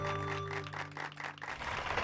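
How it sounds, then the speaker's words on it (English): Brief burst of clapping from a small group, moderately faint and steady, fading slightly toward the end. "Let's give him a jolly loud round of applause."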